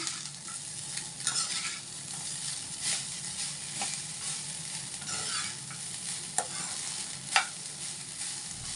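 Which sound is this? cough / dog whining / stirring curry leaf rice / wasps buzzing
stirring curry leaf rice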